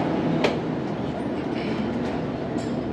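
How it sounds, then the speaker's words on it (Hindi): Shalimar Express train under way after departure, a steady loud rumble of wheels on rails with faint rhythmic clatter and a brief squeal, heard from close inside the carriage with no clear talk. "ट्रेन रवाना हो चुकी है"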